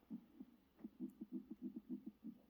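A deep, rhythmic heartbeat effect pulses steadily in a Godzilla monster-fight film, with evenly spaced doubled thumps repeating at moderate volume and no talking over them.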